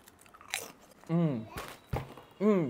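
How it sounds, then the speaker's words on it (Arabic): Thick Worcestershire-flavoured Egyptian potato chips being bitten and crunched close up, a few short sharp crunches interleaved with brief voiced sounds from the eater. "ده احلى قرمشه شيبسي انا دقتها لحد دلوقتي في المنتجات المصريه"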